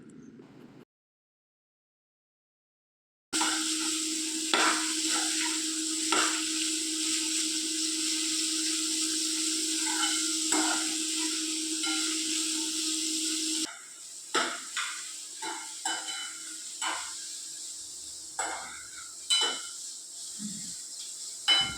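Chopped bitter gourd and onion fry in a pan, a steady sizzle with a low hum under it. The heat then drops and a spatula scrapes and knocks against the pan in irregular strokes, after a brief silent gap at the start.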